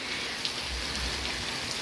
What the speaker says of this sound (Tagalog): Yan, walang katigil-tigil yung ulan guys, ang sipag niya.